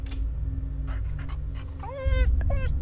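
In the horror game Fears to Fathom, a dog gives short whimpers and yips with soft panting, close and fairly quiet over a low background hum.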